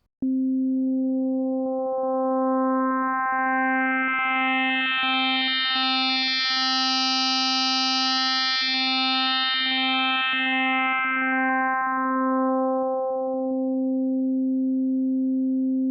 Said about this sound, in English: But watch what happens with FM synthesis.